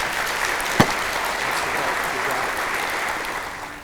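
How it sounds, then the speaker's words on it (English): An audience at a Columbia County community event gives a round of applause, with steady, full clapping throughout, one sharp clap standing out early and a gradual taper at the end. "Let's give them a round of applause."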